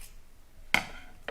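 Fabric or fiber material being cut shorter with shears, two sharp close snips about half a second apart in an otherwise quiet room.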